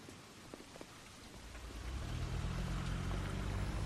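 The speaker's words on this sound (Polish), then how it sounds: "Grzmi i pada." Steady rain falls outside, building into a loud, dense wash with a low rumble underneath that swells in the second half, suggesting distant thunder during a storm.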